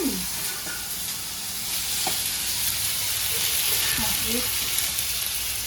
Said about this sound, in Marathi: छान परतून त्याच्यात आपला गवार बटाटा सोडून द्यायचा